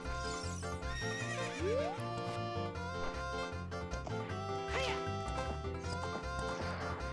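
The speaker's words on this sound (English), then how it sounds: "So come forth, my trusty steed." Epona, the horse in Zelda: Ocarina of Time, gives a clear whinny amid hoofbeat clip-clops layered over upbeat looping game music, the neigh rising and falling briefly near the middle.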